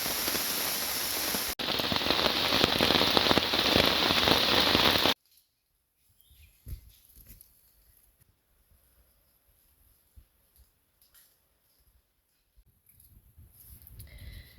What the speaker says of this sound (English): the rain just started coming down